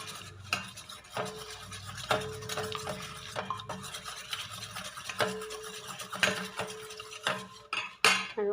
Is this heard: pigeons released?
no